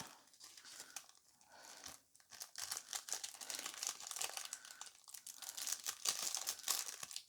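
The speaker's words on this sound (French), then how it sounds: "Ah, je voulais pas déchirer le washi tape, mais bon, c'est pas grave." Paper gift wrapping and washi tape on an advent calendar gift crinkle, rustle and tear close up in bursts of soft, quiet handling noise.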